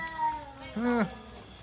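A cat gives a single clear, close meow of about a quarter second at a relatives' house in Yasothon, Thailand, after a quieter, faint vocal tone and faint background sounds.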